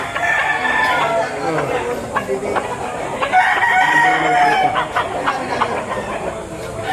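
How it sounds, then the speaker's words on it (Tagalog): Multiple roosters, some three years old, crow back and forth at a crowded poultry market in Lipa, Batangas, Philippines, with long drawn-out calls overlapping amid background chatter. "Ang gagandang mga manok."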